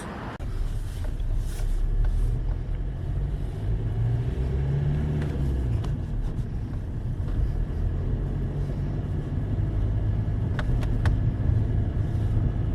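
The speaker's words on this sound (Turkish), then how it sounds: "Test sürüşüne çıkıyoruz." A Hyundai Getz with a transmission oil leak and loss of pulling power drives along on a test drive, its steady engine drone and road rumble continuous and fairly loud throughout, with no talking.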